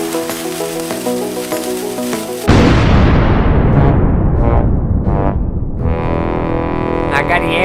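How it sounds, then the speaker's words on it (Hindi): A cartoon Diwali firecracker bomb goes off with a sudden loud broadband blast after a stretch of music, followed by a long crackling, fizzing roar that slowly decays with scattered pops and a few bright sparkling bursts. "चलो मैं ये बॉम्ब जलाता हूँ।"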